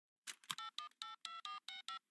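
A telephone being dialed in the Family Guy cartoon, a quick series of about eight clean touch-tone beeps at an even pace, close and clear with nothing else heard.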